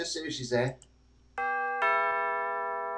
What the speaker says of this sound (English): I was going to ring the doorbell, just see if she's there.